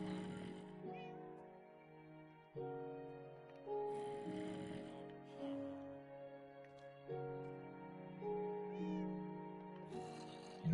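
Cats meowing in the Minecraft video game, a few faint, scattered mews heard over steady, quiet background music with sustained tones.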